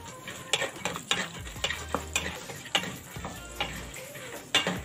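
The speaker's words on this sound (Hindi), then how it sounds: "इसी तेल के अंदर अब हम ये अपनी पीनट्स फ्राई करेंगे" Raw peanuts fry in oil over low heat for sweet chivda, heard as quiet sizzling with irregular sharp scraping and clicking stirs against the pan, no voices.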